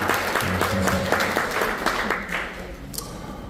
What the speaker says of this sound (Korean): 또 이분들이 계셨기 때문에 뜨거운 박수를 한번 부탁드립니다